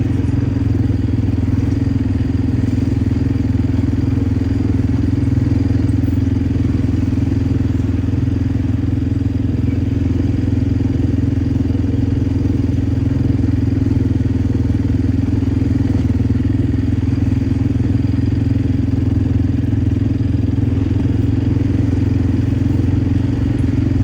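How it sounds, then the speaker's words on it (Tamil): A quad bike engine running during a ride, a loud, steady, unbroken low drone with a light mechanical rattle that holds evenly throughout, with no talking. "நான் குவாட் பைக்கில் இதான் செகண்ட் டைம் போகிறேன்."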